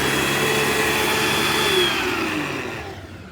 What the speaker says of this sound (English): hopefully you enjoyed that little demo of the turbo brush